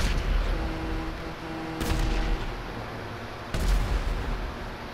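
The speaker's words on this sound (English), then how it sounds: "I'm just shooting at the air." Gunshots fired into the air in GTA 5 Online boom in two heavy, echoing bursts about two seconds apart over a continuous low rumble of game noise, loud and close with no talking.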